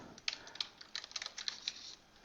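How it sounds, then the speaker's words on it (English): Amounts tapped into a spreadsheet on a computer keyboard: a quiet, close run of light, irregular key clicks over about two seconds. "I'm going to go ahead and type in the rest of the amounts."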